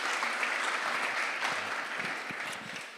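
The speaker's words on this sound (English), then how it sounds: "Would you like to give him a round of applause?" An AGM audience in a community hall applauds a representative named Paul, with steady, dense clapping from a sizeable crowd running throughout at moderate level.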